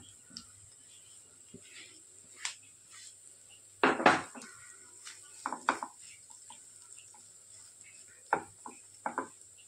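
Turmeric and greens being stirred into cooking dal in a pan, with sporadic metal spoon scrapes and clinks against the pan, a few sharp louder knocks mid-way, and quiet gaps between them.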